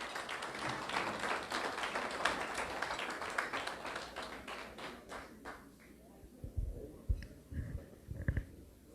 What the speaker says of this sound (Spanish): les cual les pido un fuerte aplauso para darle la bienvenida a nuestro testimonio.